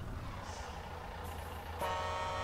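A Mercedes Actros MP1 truck in Euro Truck Simulator 2 idles with a low engine rumble, then a loud air horn blares in near the end and holds steady.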